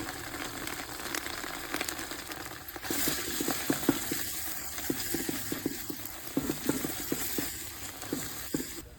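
Turmeric powder and spices fry in a pan with ginger and garlic, a steady close sizzle with scraping stir strokes that grow busier after a brief jump in level partway through; no one speaks.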